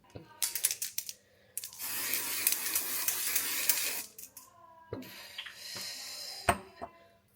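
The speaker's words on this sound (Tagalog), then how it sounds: "Ito spray na lang." A handheld spray bottle gives a couple of bursts indoors, the longest a steady hiss lasting about two seconds, with handling clicks and rustles around it.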